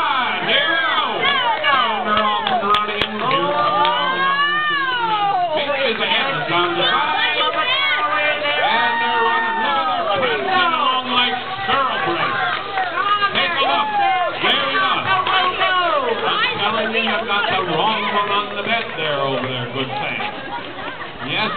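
Crowd at a harvest festival bed race in Hoffman cheers and chatters loudly and steadily throughout, with shouts rising over a dense babble of voices.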